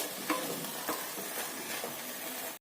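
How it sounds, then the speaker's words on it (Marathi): Sprouted moth beans are sautéed with masala in a pan, making a close, steady sizzle broken by several scraping stirs of a spoon. "मसाल्यासोबत थोडस परतून घ्यायचं"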